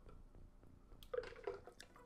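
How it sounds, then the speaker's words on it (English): Someone takes a small sip of mostly melted ice water, a quiet wet slurp with a couple of soft liquid clicks near the end, heard close up in an otherwise hushed room. "I'm gonna take a little sip here of my beverage"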